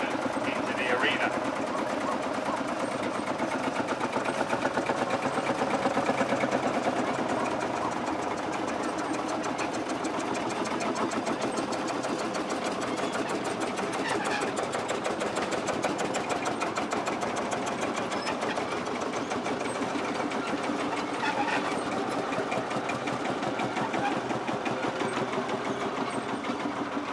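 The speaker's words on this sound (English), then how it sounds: "we're going to be getting our 100-year-old tractors into the arena" Century-old tractor engines running at an outdoor show arena, a continuous, even mechanical clatter with a rapid rhythmic beat, steady and fairly close throughout, with faint crowd and voice sounds beneath.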